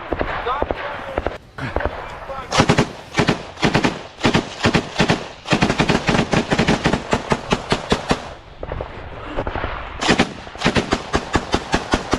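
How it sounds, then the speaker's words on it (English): Ukrainian and Russian troops fight at close range during a frontal assault. Loud, rapid bursts of machine-gun fire alternate with single gunshots in an uneven rhythm, with short pauses between volleys. "both sides become locked in a close-range firefight"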